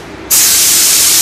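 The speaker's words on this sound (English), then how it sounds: "22 spraying, full trigger." Devilbiss JGX-508 spray gun at full trigger, spraying base coat: a sudden loud, steady hiss that starts abruptly and holds constant, close and alone.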